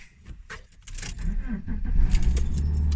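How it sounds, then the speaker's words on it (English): A car engine starting during a morning commute: keys jangle first, then the engine cranks and settles into a loud, close, steady idle. "Car started."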